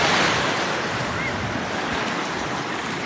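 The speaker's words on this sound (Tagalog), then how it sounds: "Malaki ang alon." Big ocean waves at sea on a fishing outing with a rod, heard as a steady, loud roar of surf and rushing water mixed with wind buffeting the microphone, and no talk.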